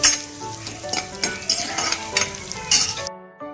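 Curry leaves with ginger roasting in a hot pan, a close, lively sizzle and crackle with scraping utensil clinks, ending abruptly in near silence.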